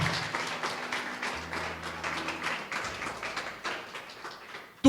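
Applause in a church congregation, a steady wash of clapping with sustained musical tones underneath, ending with a sudden loud burst.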